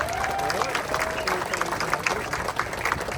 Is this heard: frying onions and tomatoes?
no